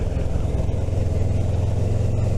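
A motorbike engine drones steadily and loud while riding around, a constant low hum with no talking.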